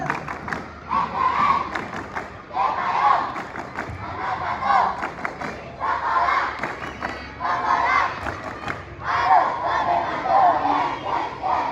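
A group of schoolchildren at SD Cipayung chants the tepuk alma mater clapping cheer, loud rhythmic shouted phrases in repeated bursts with sharp claps and thuds between them, steady for the whole stretch.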